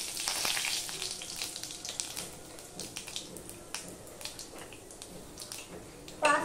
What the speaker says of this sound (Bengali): এবার আমি এই 5 ফোড়নটুকু দিয়ে দিলাম, আর দিয়ে দিলাম এই তেজপাতা।